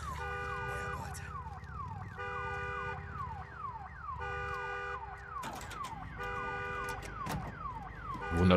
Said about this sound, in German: die Alarmanlage aus